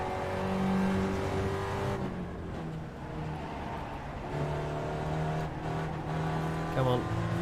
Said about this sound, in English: See, the car's happy. It's revving for joy.